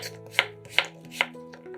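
A knife chops potatoes into cubes on a cutting board, three crisp evenly spaced thuds against a quiet background, close and clear.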